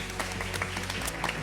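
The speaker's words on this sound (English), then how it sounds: "I just want to give a special shout out to give a big round of applause to Daniel Phua, Nicole Lim, Kenny Neo, Ivan" An audience at a corporate talk-show event claps in a dense, moderately loud burst of applause that runs steadily throughout, with a faint voice under it.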